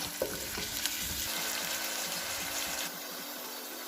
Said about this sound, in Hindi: ऑयल हमारा गरम हो चुका है, प्याज हमने इसमें डाल दिया है,